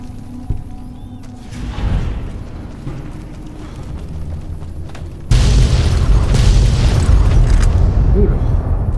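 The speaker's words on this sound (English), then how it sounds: "Who the fuck shooting the mini nuke?" A mini nuke blast booms in modded Fallout New Vegas, starting as a sudden heavy low rumble that swells and then holds as a loud, sustained roar with crackling debris on top.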